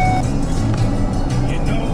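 A 2011 Ford F-150 XLT regular-cab short-box pickup is on the move, heard from inside the cab as a steady, low engine-and-road rumble that stays even throughout.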